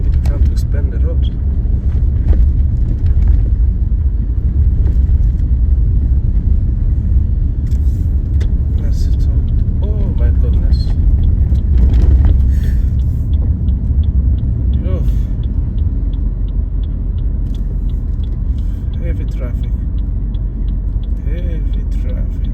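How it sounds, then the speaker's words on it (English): Heavy road traffic in Abidjan rumbles steadily and close by, with cars and larger vehicles passing in a continuous low drone and occasional louder swells. "Heavy traffic."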